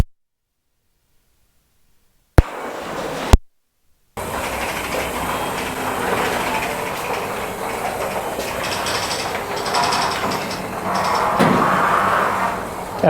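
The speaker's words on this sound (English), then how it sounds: "we'll pop this garage door" A garage door rolls open with a steady, loud rumbling clatter after a brief silence and a couple of sharp clicks, continuing for several seconds with no talking.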